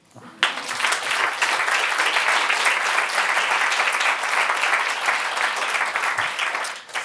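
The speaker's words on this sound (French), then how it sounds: "On peut l'applaudir." An audience at a conference on stress in schools breaks into sustained applause that starts abruptly, stays loud and dense for several seconds, then tapers off.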